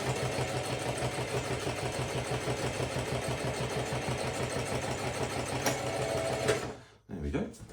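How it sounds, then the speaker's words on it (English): A sewing machine stitches two hat liner pieces together in a steady, close, continuous whirr with rapid mechanical ticking, stopping abruptly near the end, followed by a brief handling noise. "So we sew the two pieces together first of all"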